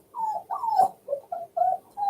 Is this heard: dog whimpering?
yes